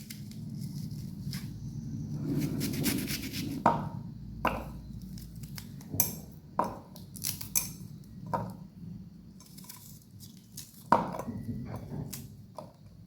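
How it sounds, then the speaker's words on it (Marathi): Knife chopping an onion on a cutting board in a home kitchen, a series of sharp irregular taps with short pauses between bursts, close and clear with no talking. "कांदे आपण कट करून टाकूया।"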